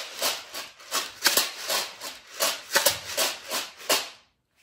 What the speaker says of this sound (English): we've got a Clorox wipes container filled with macaroni and cheese.